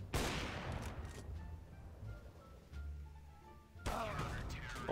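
Counter-Strike gunshots ring out as sharp, loud bangs at the start and again near the end, with quieter game noise and a voice in between.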